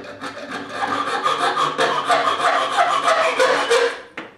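A threaded steel rod locked in a vise is sawn through in quick, rhythmic back-and-forth strokes that rasp steadily and close by before stopping, with no speech.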